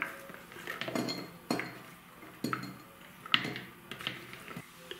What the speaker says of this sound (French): Je verse dans mon bocal.